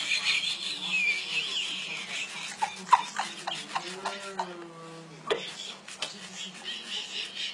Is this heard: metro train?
no